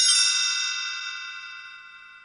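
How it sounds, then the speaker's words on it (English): A bright read-along page-turn chime rings once, a clear metallic ding with shimmering bell overtones that slowly fades away on its own, with no voices over it. "You will know it is time to turn the page when you hear the chimes ring like this."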